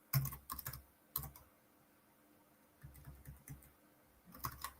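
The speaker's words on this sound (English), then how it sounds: "just typing out this phrase for you" Faint typing on a computer keyboard, with short clusters of quick key clicks separated by a quiet pause, close by and soft, with no talking.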